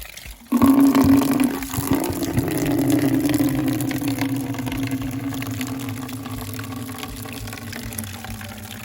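Drinking water gushes from a tap into a bucket, starting abruptly with a strong splash and settling into a steady, loud filling rush that slowly deepens in tone as the level rises, no talk.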